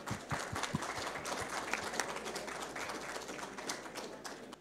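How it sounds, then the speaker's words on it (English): A lecture audience at a London talk on timber structures applauds in a faint, continuous patter of many hands clapping, heard from a distance without speech. "Should we give him a round of applause?"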